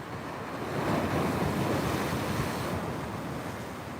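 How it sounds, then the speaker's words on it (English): Ocean waves wash onto the shore in a continuous, rumbling roar, with wind buffeting the microphone and no voices present. "it's still nice to just sit here and listen to the waves and watch the waves"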